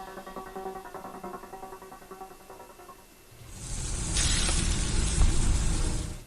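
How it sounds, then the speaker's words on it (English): Dry-aged USDA Prime Wagyu and Angus steaks sizzling, a broad hissing crackle that swells in after a few seconds of quiet background music and holds steady to the end. "That's the sound of sizzling, dry-aged USDA Prime Wagyu and Angus steaks from UppercutChops.com"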